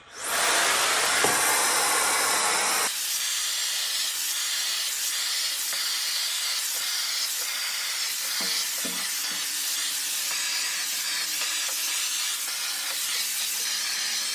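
A garment steamer with vacuum suction steaming wrinkles out of fabric: a loud burst of steam hiss, then a steady, close whooshing suction drone that runs on with small rustles and bumps.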